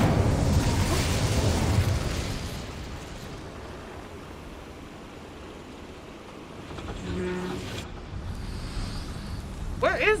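An Incendio fire spell cast in Hogwarts Legacy bursts out as a loud whooshing, roaring blast that fades into a rumbling fiery wash, rising again briefly before settling.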